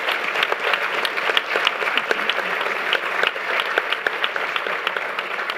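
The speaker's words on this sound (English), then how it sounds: "give them a huge round of applause" A large audience applauds a panel at the close of a discussion on plant-based meat going mainstream, dense sustained clapping that holds steady throughout without a break.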